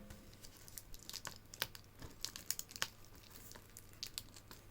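Plastic shrink-wrap on a 4K Blu-ray package being cut and peeled open, giving close, soft crinkles and sharp tearing crackles in irregular bursts, with no talking.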